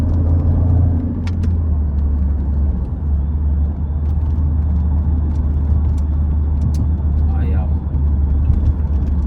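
A supercharged Jeep SRT 6.4 V8 cruising lightly, a steady deep low rumble and road drone heard from inside the cabin, loud and constant with no surges.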